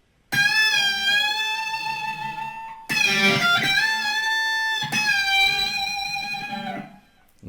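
Electric guitar playing a riff from a song, with sustained melodic lines, string bends and vibrato across three connected phrases, loud and clear with no talking.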